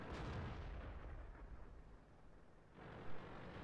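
A tank cannon fires in World of Tanks: a loud, booming blast opens, then a long rumbling decay fades out, and a smaller pop follows near the end.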